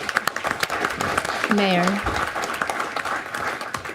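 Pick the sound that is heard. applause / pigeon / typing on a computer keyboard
applause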